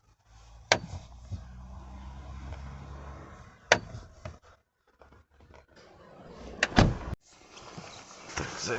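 Car doors opened and shut several times in winter, the closers having been greased with soap, giving sharp latch clunks and slams with scraping creaks between them, close by and without talk.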